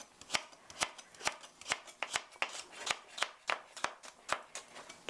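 A knife thinly julienning carrots on a cutting board for onion curry chicken taps out a quick, steady run of crisp chops, close and clear, with no talking.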